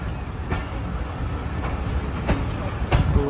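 Allama Iqbal Express rolling into a platform at Mian Channu station, a steady low rumble of rail cars with rhythmic wheel clacks and occasional metallic squeals, fairly close and continuous.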